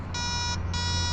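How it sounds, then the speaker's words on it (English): A metal detector sounds two clear electronic beeps on a buried target, a short tone followed by a slightly longer one after a brief gap, with a low hum underneath. "with this machine, you really got to focus on the beeps"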